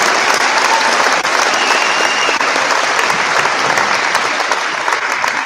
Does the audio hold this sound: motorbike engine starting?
no